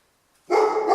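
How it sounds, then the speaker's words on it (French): A single dog bark starts abruptly after a moment of silence, sharp and fairly loud, slightly muffled as if from another room. "Si vous entendez aboyer, c'est normal"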